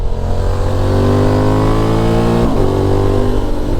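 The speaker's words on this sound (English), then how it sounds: "There's a lot more grumbling on the downshifts, the odd little pop" A Honda Transalp XL 750 fitted with a full Black Widow exhaust system revs loudly close by, a deep continuous grumbling engine note that dips briefly partway through and then carries on.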